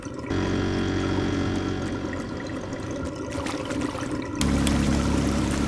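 Water draining through a pump in the simulation game Drain Sim, a steady rushing and gurgling flow with a constant mechanical hum underneath that grows louder and fuller toward the end, with no voices.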